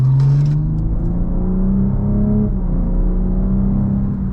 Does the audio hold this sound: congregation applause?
no